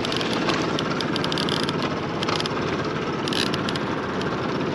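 A boat motor runs steadily and close on a fishing trip at Drano Lake, a continuous buzzing engine drone with no pauses or talk.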